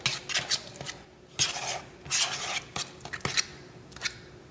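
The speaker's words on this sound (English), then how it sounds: "the fork really breaks the yolks to make sure it actually mixes in with the mixture" A fork mixing egg yolks with mayo in a bowl for stuffed eggs, with quick clinking and scraping strokes against the bowl in uneven bursts, close and fairly loud, with no talk.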